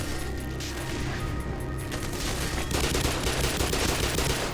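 A grenade blast in the first-person shooter Black Mesa, a dense loud burst of noise that rolls on continuously amid gunfire-like crackle for several seconds with no voices.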